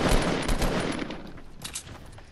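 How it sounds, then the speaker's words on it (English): Rapid bursts of automatic gunfire in Fortnite Battle Royale, a loud clustered volley up front easing into sparser, quieter shots, with no talking. "where are the shots?"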